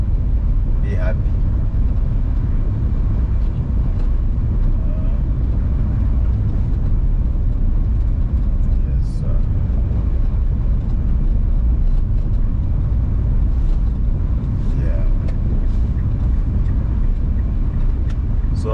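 A car drives through the Kitengela area of Kajiado, Kenya, with a steady, loud, close engine and road rumble that continues unbroken throughout.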